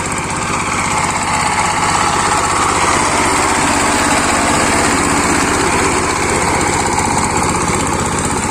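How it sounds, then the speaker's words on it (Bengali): An ACI Asia R28 power tiller ploughs a field, its single-cylinder engine running loud and steady at close range with a constant rattling drone and no pauses. "এশিয়া 28 পোলের পাওয়ার টিলার দিয়ে জমি চাষ করা হচ্ছে"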